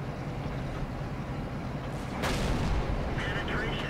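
A tank cannon fires in the video game World of Tanks, one heavy booming shot over constant engine rumble, followed by a sharper crack and shell impact.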